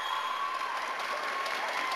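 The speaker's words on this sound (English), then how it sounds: "taking in all the applause that this very appreciative crowd is giving them" An appreciative crowd at a collegiate skating event applauds a Western Michigan University team, a dense, steady wash of clapping and cheering filling the rink from start to finish.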